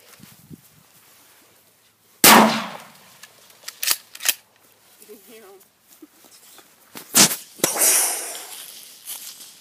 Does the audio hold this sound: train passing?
no